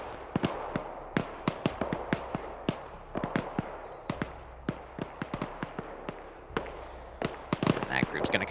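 Sharp, irregular gunshots crack one after another in the video game Arma 3, dozens of quick reports fired in a steady stream, some in tight pairs, fairly close.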